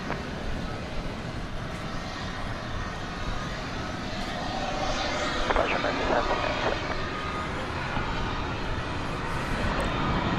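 An airplane takes off at DFW Airport at night, a steady broad engine roar building slightly over time, distant and continuous, with someone talking faintly over it.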